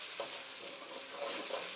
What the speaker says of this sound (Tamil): தக்காளி போட்டு நல்லா வதக்கிக்கலாங்க.